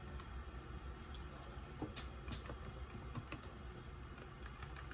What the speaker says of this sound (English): Man, I can't even type properly.